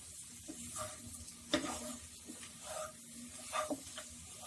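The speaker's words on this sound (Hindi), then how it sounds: "अब फ्लेम को मीडियम पे रख के 2 मिनट के लिए इसे अच्छे से भून लें।" Mutton mixture for mutton dammi frying on a medium flame, a faint steady sizzle with a few louder stirring scrapes of a spoon against the pan.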